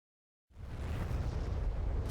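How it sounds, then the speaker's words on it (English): A missile explosion in the DCS World combat flight game, with a HIMARS indirect missile strike, bursts in abruptly after silence and then rolls on as a loud, sustained roaring rumble. "Just in an explosion."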